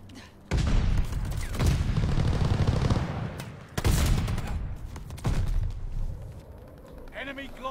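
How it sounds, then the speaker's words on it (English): A called-in airstrike in an online shooter game, heavy booming blasts in three long rumbling waves with sharp onsets, loud and close, with a voice faintly under the final moments. "Your teammate called an airstrike."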